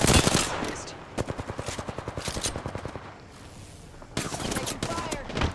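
Rapid bursts of automatic gunfire from a first-person shooter video game, loud, close and rhythmic, rattling in long volleys with brief pauses in between.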